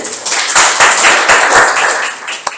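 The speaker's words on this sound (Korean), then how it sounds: "박수로 맞이해 주시기 바랍니다" Audience at a Korean labor-movement memorial symposium applauding to welcome the second presenter, loud sustained clapping close by that fades slightly before one last sharp clap.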